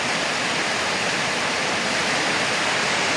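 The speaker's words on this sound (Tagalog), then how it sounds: "Sobrang lakas ng ulan." Dense, continuous hiss of heavy rain pouring down, loud and unbroken with no voices.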